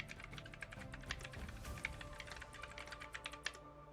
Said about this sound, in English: Who's typing? Who's on a typewriter?